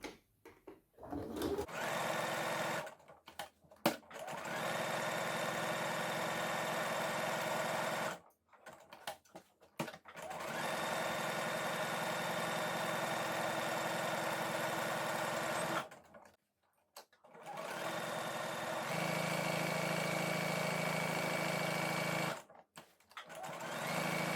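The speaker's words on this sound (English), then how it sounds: "machine on zigzag stitch and just stitch around the edge" Sewing machine zigzag stitching around fabric edges of comfy pants to stop fraying, four long runs of fast, even mechanical whirring separated by short pauses.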